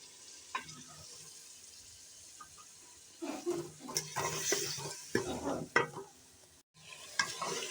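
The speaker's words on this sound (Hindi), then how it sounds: "अब हमने जो जग में टमाटर और वो साबुत मिर्च पीस ली थी डालकर अच्छी तरह से भुनाई कर लेंगे।" Chicken frying in a pan with ground tomatoes and whole chillies, soft sizzling under intermittent scraping and stirring clatter, fairly quiet and close.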